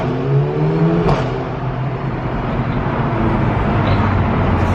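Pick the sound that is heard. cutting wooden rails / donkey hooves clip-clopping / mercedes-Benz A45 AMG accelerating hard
mercedes-Benz A45 AMG accelerating hard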